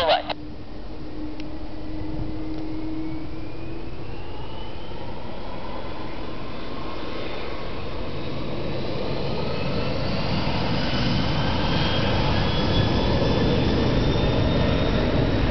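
A Japan Air System Airbus A300-600R takes off at Hong Kong International Airport with a steady, loud jet engine roar whose rising whine grows through the whole takeoff roll.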